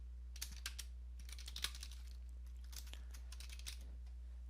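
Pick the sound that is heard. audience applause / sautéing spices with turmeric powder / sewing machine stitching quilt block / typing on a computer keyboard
typing on a computer keyboard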